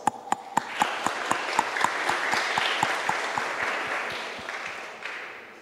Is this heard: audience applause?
yes